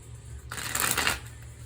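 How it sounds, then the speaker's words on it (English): A Tattoo Tarot Ink and Intuition deck is riffled in one brisk, papery shuffle that lasts under a second. It is close and clear against a quiet room, with no voices. "I have my deck here. I'm going to go ahead and start shuffling."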